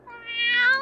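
A black cat gives a single rising meow, short and close, heard alone.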